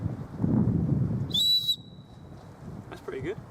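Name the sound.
whistle on a bushcraft belt kit being blown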